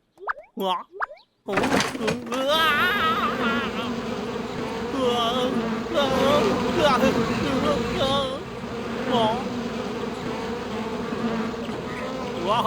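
Cartoonish bee buzzing swarms and wavers with playful warbling effects in a Tamil cartoon, after a few brief springy sounds at the start; a voice is also present.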